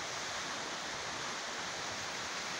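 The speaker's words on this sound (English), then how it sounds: "You can see like waterfalls and stuff." Steady waterfall rushing in a game world, a constant broadband hiss of falling water, even and unbroken, fairly faint, with no voices.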